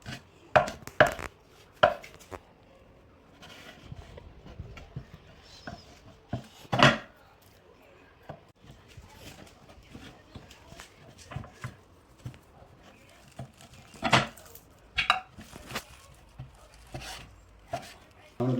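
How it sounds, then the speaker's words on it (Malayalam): Beef with some bone being chopped into small pieces for kappa biriyani, with sharp, irregular knife thwacks on a board, some strong and some light, while a person talks between strikes. "അപ്പം നമുക്ക് ഇതൊന്ന് ചെറിയ പീസാക്കി എടുക്കാം."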